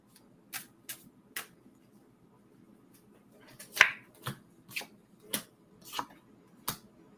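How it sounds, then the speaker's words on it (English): Tarot cards tossed down one after another for a psychic reading, crisp soft slaps spaced about half a second apart, quiet and close, with no voices. "throw some cards down"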